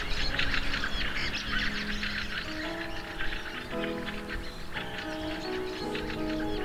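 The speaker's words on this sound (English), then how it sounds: "Wintering fieldfare, the largest migratory thrush, burst from the trees and scatter as if leaves blown in the wind." A wintering flock of fieldfares, large migratory thrushes, bursting from trees: dense overlapping chirps and calls fill the air continuously, over a steady background of sustained musical tones.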